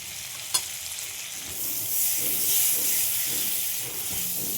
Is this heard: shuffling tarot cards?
no